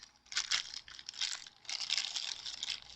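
Cured epoxy resin pieces shifting inside a plastic bag make close, bright crinkling and rustling that comes in uneven bursts with brief lulls.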